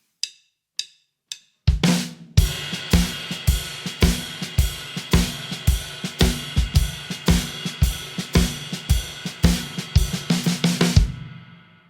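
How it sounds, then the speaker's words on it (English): A drum kit plays a shuffle groove: three crisp sticking hits, then a steady pattern of ride cymbal and bass drum quarter notes, hi-hat on 2 and 4, and left-hand snare shuffle with backbeat accents, close and loud for about nine seconds before stopping. "I'm playing quarter notes on the ride cymbal, quarter notes on the bass drum, 2 and 4 on the hi-hat"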